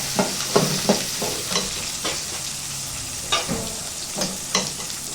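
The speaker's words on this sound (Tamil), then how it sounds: "இப்போ பூண்டு, வெங்காயம், சின்ன வெங்காயம் வதக்கிக்கலாம்" Garlic, onions and small shallots sauté in a pan for a bitter gourd tamarind curry, with a soft continuous sizzle and a rhythmic series of close spatula stirs and scrapes.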